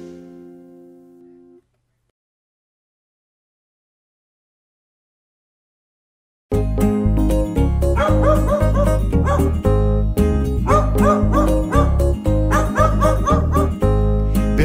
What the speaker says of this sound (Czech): starý farmář pejska měl, ten jmenoval se Bingo